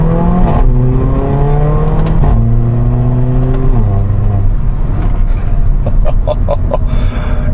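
A Mercedes-Benz A45 AMG with an ECU remap accelerates hard, its engine loud and close, climbing through gears in stepped surges with brief pauses at each shift, then sharp popping and crackling bursts near the end.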